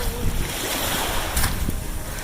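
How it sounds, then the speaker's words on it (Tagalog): Strong gusty wind buffets the microphone on a seashore while waves wash in steadily underneath, a dense, loud roar throughout with no voices. "Lakas ng angin."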